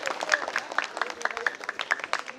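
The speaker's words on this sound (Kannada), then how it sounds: "ಈಗ ಕುಮಾರಿ ಅನುಶ್ರೀ ಅವರಿಗೆ ಮತ್ತೊಮ್ಮೆ ಜೋರಾಗಿ ಚಪ್ಪಾಳೆ ತಗೊಳ್ಳುವ ಮೂಲಕ ನಮ್ಮ ಗೌರವ ಸಲ್ಲಿಸೋಣ" An audience at a Kannada Rajyotsava celebration claps for a performer, dense sustained applause from a seated crowd heard at moderate distance, with no voices over it.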